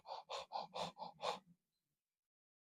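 A person imitates a panting dog with six quick, breathy huffs in a steady rhythm, close and fairly loud, then silence.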